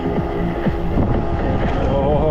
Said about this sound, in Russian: Ой, ветер вообще, это кайф.